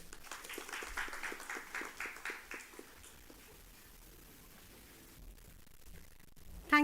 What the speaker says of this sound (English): Ladies and gentlemen, one more huge round of applause to welcome all our esteemed guests.